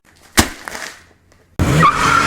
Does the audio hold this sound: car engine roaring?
yes